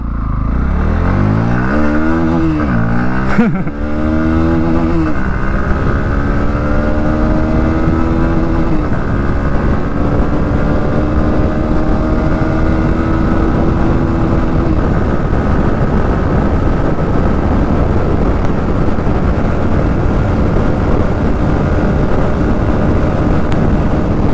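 A 2024 Bajaj Pulsar NS 160 motorcycle pulls away in first gear, its engine note climbing through a few quick revs before easing into a steady drone, with continuous wind and road rush close by.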